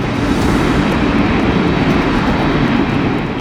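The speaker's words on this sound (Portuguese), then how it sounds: "Descendo rapidamente, o avião finalmente pousa na pista 30 à esquerda." American Flight 1400, an airliner with an engine failure, descends to land on runway 30 left; a loud, steady engine roar drones continuously without a break.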